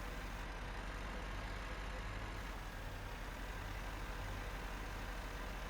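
A tractor engine idles in Farming Simulator 15 with a steady low diesel rumble, unchanging and continuous at a moderate distance, with no other sounds rising above it.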